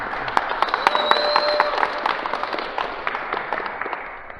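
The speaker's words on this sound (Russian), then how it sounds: "Громкие аплодисменты." A crowd applauds a placing at a senior youth national all-around sports competition, with sustained clapping, some scattered voices and a brief whistle-like tone, fading slightly toward the end.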